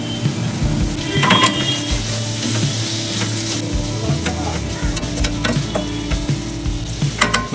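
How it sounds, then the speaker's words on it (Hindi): Spice masala for dhaba-style gobhi masala fries and gets stirred in a pan, a continuous close sizzle with scraping spoon strokes and occasional clinks against the pan. "मसाले को हम अच्छे से भून लेंगे।"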